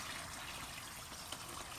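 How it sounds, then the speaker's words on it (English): Water poured to top off a turkey in a Pit Boss Brunswick smoker, a faint, steady trickle and splash running without pause. "So just a little bit more water."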